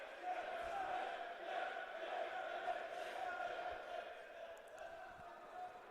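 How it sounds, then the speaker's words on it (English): A men's wrestling team at a SLIAC championship cheers and counts off back points from the sidelines, a steady roar of crowd shouting and voices filling the space without letup. "their whole team's getting into it with the counting off of the back points, the cheering after the match"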